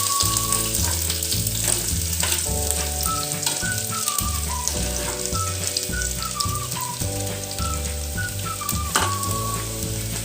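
Garlic and green chillies frying in hot oil in a pan, giving a close, continuous crackling sizzle with occasional stirring knocks and a faint whistling tune in the background.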